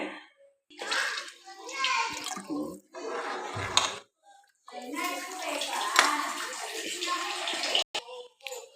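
Water splashes and pours in bursts into a thick drumstick-leaf curry, with short pauses between, close by, while people talk quietly in the background.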